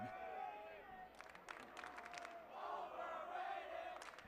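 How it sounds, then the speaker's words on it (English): A high school baseball crowd chanting "overrated" at the Field of Dreams, heard as a distant, rhythmic group chant with scattered claps rising over the crowd murmur during a Dubuque Hempstead game. "the greatest cheer in high school sports, overrated"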